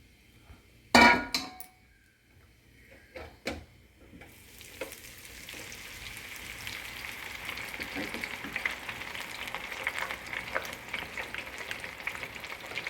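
Soya chunk (meal maker) pakodi fry in oil in a kadai, starting with a few sharp clanks and taps, then settling into a steady, rising crackling sizzle close by.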